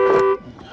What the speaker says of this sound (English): Did I set the alarm off?